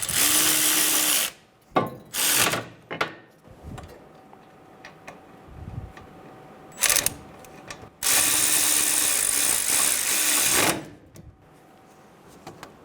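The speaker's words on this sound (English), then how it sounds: "Snug the bolts down." Power tool snugging down the caliper bracket bolts on a 2011-2014 Hyundai Sonata during a front brake caliper replacement, several loud whirring bursts, two long runs and a few short ones, separated by quiet pauses, with no talking.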